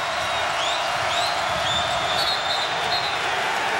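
Crowd in a college basketball arena during a Pitt Panthers versus Villanova Wildcats game roaring and cheering, a loud continuous wall of noise with whistles cutting through, no clear speech.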